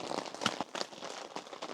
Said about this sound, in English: The rain is coming down proper heavy now.